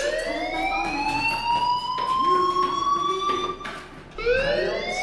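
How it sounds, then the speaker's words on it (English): Fire alarm in the video game Life is Strange, a loud, continuous rising electronic siren tone that sweeps repeatedly, briefly dipping near the end before starting a new sweep, heard alone without talk. "Hey, do you hear that fire alarm?"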